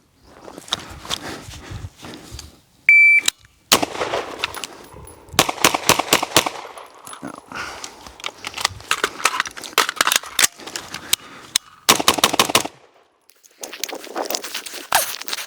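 A shot timer's electronic beep starts a timed 12-second pistol drill from the GBRS Universal Shooting Standard, followed by a series of sharp, loud handgun shots in quick bursts with brief pauses between strings.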